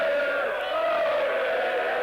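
Motocross spectators at the Namur 500cc Grand Prix in Belgium, 1991, a massed crowd singing and chanting in a steady sustained roar, loud and continuous.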